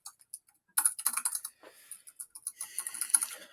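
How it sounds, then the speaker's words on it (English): Rapid keyboard typing in a quiet classroom, dense bursts of keystrokes after a brief pause, close and moderately loud with no talking. "I hear some furious typing."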